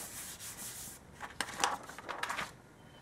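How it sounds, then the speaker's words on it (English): Scratch paper rubbed by hand over a stamped card, a soft, close, dry scuffing in several quick strokes, faint and brief. "Cover with scratch paper and rub."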